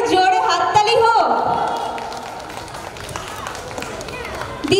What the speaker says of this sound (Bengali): এটা জোরে হাততালি হোক।